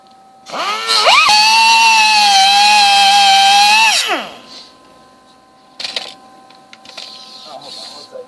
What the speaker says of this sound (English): Actually, I need your die grinder at that hood.